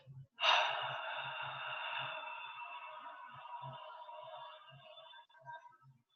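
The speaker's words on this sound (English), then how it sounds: "Breathe in. Breathe out." One long, forceful breath is drawn in sharply and then slowly let out, close to the mic, over a faint low rhythmic thumping in the background.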